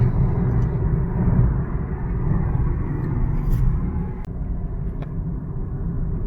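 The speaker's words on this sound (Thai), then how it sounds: "รอบมาจัดขึ้นนะครับ" A Mitsubishi Attrage with an electric throttle booster revving, with a loud, steady low engine drone and rumble that holds at a high pitch, easing slightly near the end; no voices.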